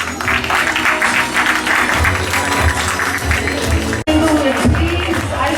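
Loud, sustained audience applause for classes 2B and 2C at a school curtain call, dense clapping with crowd noise throughout, a brief dropout near the end before the clapping resumes.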